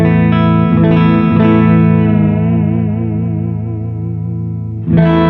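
An electric surf guitar played through an amp with its spring reverb tank set around 3 or 4, sustained chords ringing with wobbling chorus-like shimmer and a trailing reverb tail, loud and close, with a fresh strum at the end.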